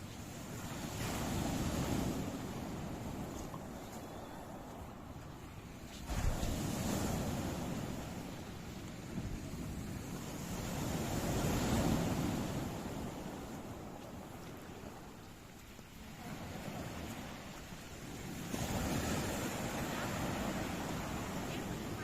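Waves washing onto a beach at low tide, rolling in slow surges that rise and fall every few seconds, with wind buffeting the microphone and a faint voice now and then.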